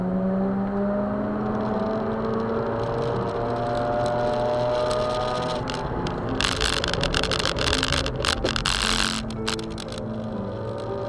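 A Mazda RX-8 rotary engine revs hard and climbs in pitch, a loud rising whine joined by rattling, crackling bursts before it eases off.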